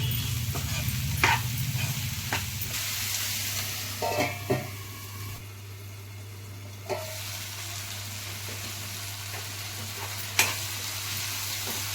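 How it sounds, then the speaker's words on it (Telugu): Pieces of ridge gourd fry over high flame for a yogurt curry, a steady close sizzle and hiss broken by occasional scraping stirs and clinks of the utensil against the pan. "కట్ చేసుకున్న బీరకాయ ముక్కలు వేసుకుందాం హై ఫ్లేమ్లో రెండు నిమిషాలు ఫ్రై చేసుకున్నాం అండి"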